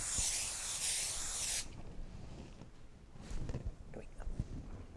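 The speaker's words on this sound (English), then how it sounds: "Now I'm going to spray the top of this batting for the top." A steady hissing spray of adhesive onto quilt batting runs for about a second and a half, close and fairly loud, then stops, leaving quiet rustling and handling noises.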